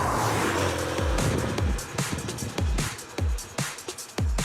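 Peugeot 205 Turbo 16 rally car driving through a series of corners, engine note rising and falling with repeated gear changes and throttle blips, heard from inside the car.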